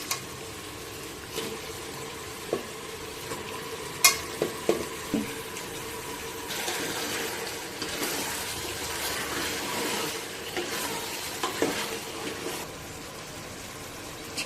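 Washed chicken pieces cook with tomato in a pan, giving a quiet, moderate sizzle, with occasional clacks and scrapes as a spoon stirs through the mixture.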